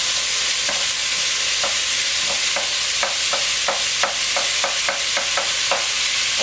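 Vegetables for a tomato soup sweat in a pan on high heat, a bright continuous sizzle broken by a series of close, rhythmic scraping clicks as they are stirred and pushed around; no voices.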